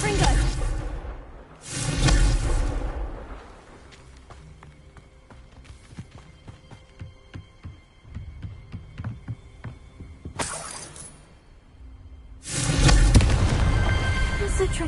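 A Confringo fire spell cast in the Hogwarts Legacy video game bursts out as loud whooshing blasts, with one early burst and a louder pair near the end, separated by quieter clattering game ambience.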